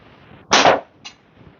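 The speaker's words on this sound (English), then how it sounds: "Shooting 8mm steel for the most part." A slingshot with a tapered band fires an 8mm steel ball into a catch box against the end wall of an indoor room, giving one loud sharp crack followed by a fainter short impact, with no talk.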